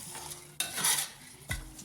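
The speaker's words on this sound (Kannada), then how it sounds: "ಒಗ್ಗರಣೆಯಲ್ಲಿ ರೈ ಅಕ್ಕಿ ಎಲ್ಲ ಮಿಕ್ಸ್ ಮಾಡಿಕೊಂಡು ಹುರಿಯಿರಿ" A few scraping strokes of a spoon stirring rice through a hot pan of spiced tempering, with light sizzling between the stirs.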